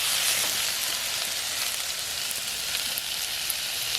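Dry fish frying in a pan for a village-style curry, a continuous even hiss of crackling oil, fairly close, with faint scattered pops and no talking.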